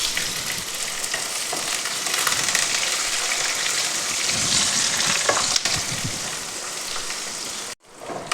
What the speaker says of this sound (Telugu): ఈ ఉల్లిపాయ అనేది కాస్త మగ్గిపోవాలన్నమాట. మరీ అలా అని డీప్ ఫ్రై కాదు